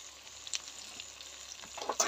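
Homemade hair oil sizzles and crackles in a pan as it cooks, a steady soft frying hiss with a few sharper pops near the end, no voices.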